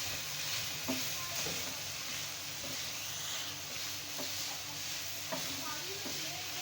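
Chicken filling for paratha rolls cooks in a pan over medium flame, giving a steady broadband sizzle with occasional stirring scrapes, fairly close and continuous, with faint background voice.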